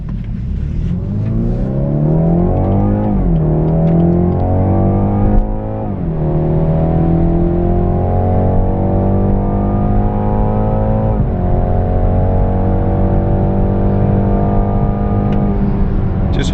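A BMW 430i Gran Coupe xDrive accelerating hard from inside the cabin: engine drone climbs through the gears with rising pitch and brief dips at each shift, steady and close, with no talk.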